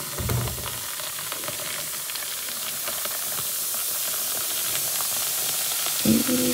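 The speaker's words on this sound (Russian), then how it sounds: "И прям вот таким вот образом я добавлю кипятка" Steady hissing rush of boiling water poured from a kettle into a plate, with faint clinks at the start and end and no talking.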